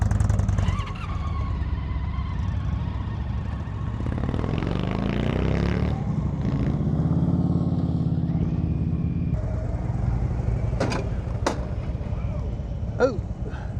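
Motorcycle engine droning steadily on an Arizona mountain ride, with broad road and wind roar throughout, a rising rev around the middle and a few sharp clicks and scrapes near the end; voices occasionally mix in.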